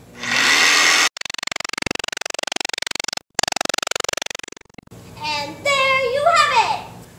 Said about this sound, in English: next you're going to grab your jigsaw